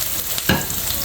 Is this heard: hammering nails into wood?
no